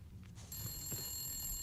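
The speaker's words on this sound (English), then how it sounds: "Now, where's that ringing coming from?" Telephone ringing inside a building in the video game The Long Dark, a steady electronic ring with a sustained high tone starting partway through, heard faintly against low room hum.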